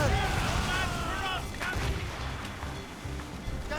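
Ship cannons firing during a naval battle in Assassin's Creed Rogue, with heavy booming blasts and crashing debris amid chaotic battle noise, loud and dense, with shouting crew voices mixed in.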